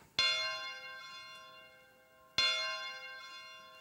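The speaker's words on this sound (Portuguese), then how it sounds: "O sino." Two loud strikes of a church bell, each ringing out with a long shimmering decay before the next.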